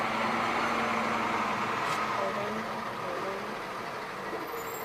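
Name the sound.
truck passing outside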